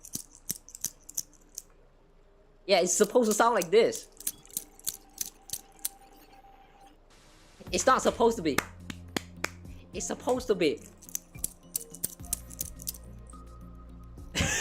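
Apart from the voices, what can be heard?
demonstration of hand clapping sounds, clapping ASMR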